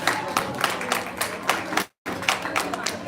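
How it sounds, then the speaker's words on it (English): An audience applauds at a live event, with steady, dense clapping that breaks off for a moment and then carries on. "Everybody, please give a huge round of applause."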